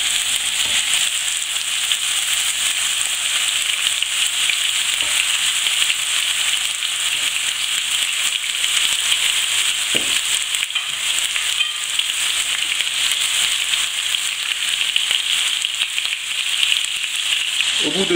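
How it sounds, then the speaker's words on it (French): Monkfish pieces brown in hot butter and oil in a pan, giving a loud, steady, even sizzle with faint crackles that runs unbroken throughout. "mettez les morceaux de lotte à dorer pendant 2 minutes sur chaque face"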